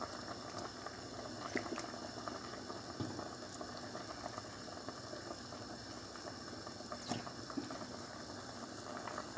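Lentils simmer at a soft, steady boil in a pot for mujaddara with rice, giving a faint continuous bubbling with occasional small pops and no voices.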